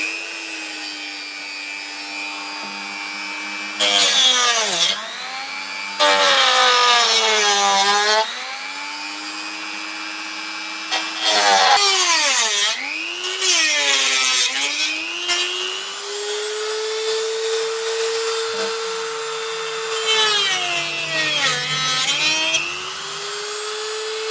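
A power tool cuts through a carbon fiber part, its motor whining at a steady pitch that dips and swells as the blade bites, with louder bursts of grinding noise during each pass.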